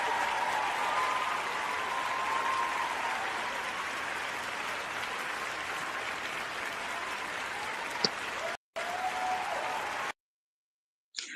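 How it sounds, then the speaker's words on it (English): Sustained applause from a crowd fills the clip with steady, dense clapping, briefly cutting out before a short silence at the end. "So Stephanie, give me one more hand clap on that, because that's great integrity."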